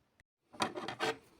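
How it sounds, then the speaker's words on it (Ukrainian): Packaging of an electronic pest repeller being opened, a short close rustling and scraping of cardboard in a few quick strokes after a tiny click, otherwise quiet. "Зараз ми її акуратно вскриємо, так, щоб її не поламати."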